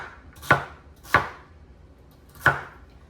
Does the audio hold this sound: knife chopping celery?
yes